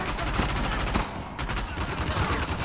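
Rapid automatic gunfire in the action game Uncharted: The Lost Legacy, a dense, loud, continuous burst of shots with sharp rhythmic cracks and barely a pause.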